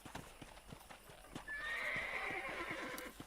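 Horse in the Red Dead Redemption video game, hooves clip-clopping in a steady rhythm, then a loud drawn-out neigh rising over the hoofbeats midway, fairly close and clear with no speech.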